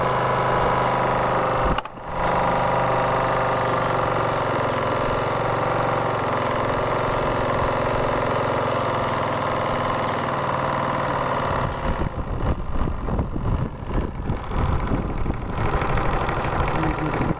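A steam boat engine runs steadily with a continuous mechanical drone and rhythmic chugging, turning rougher and more irregular toward the end, with no talking.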